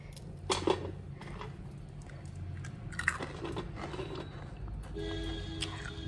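Biting and crunching crispy fried chakli and karanji snacks, a few close, sharp crunches over a steady low background hum, with quieter chewing between bites.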